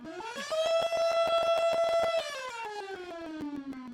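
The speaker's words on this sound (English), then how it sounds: "I don't know if you still hear a little bit of the siren happening in the background" A steady wailing siren holds its pitch, then slowly winds down, heard clearly amid a faint rhythmic ticking.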